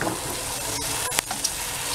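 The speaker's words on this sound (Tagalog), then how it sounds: "nagpiprito lang ako ng talong na may toyo." Eggplant with soy sauce frying in a pan gives a steady, close sizzle, with a couple of faint clicks partway through.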